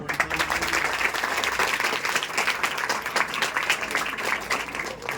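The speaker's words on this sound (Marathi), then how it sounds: "तुमच्या इतका टाळ्यांचा कडकडाट कुठल्याच आरतीला ऐकला नाही" A crowd at a Ganeshotsav aarti breaks into sustained, thunderous applause, many hands clapping densely and evenly for the whole stretch without any pause.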